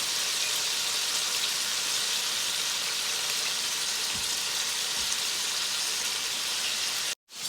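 A venison steak frying in a pan over medium heat gives a steady, even sizzle that holds without pause, then cuts out briefly near the end.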